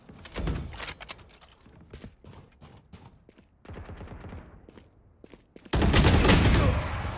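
Gunfire in the Valorant video game during a team deathmatch, with dense bursts of rapid shots, some scattered single cracks and a loud sustained volley at the end.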